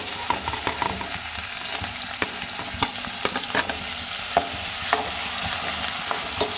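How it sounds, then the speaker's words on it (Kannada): Onions frying in hot oil in a pan, giving a steady close sizzle with occasional sharp clicks and scrapes as a spatula turns them, with no voices. "ಈರುಳ್ಳಿ ಎಲ್ಲ ನೀಟಾಗಿ ಹಸಿ ವಾಸನೆ ಹೋಗೋವರೆಗೂ ಫ್ರೈ ಮಾಡ್ಕೋಬೇಕು"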